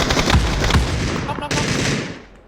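Rapid gunfire in the battle royale game PUBG: dense, close bursts of automatic shots with loud impacts, ending in a sharp crack before it tails off, with voices faintly in the mix.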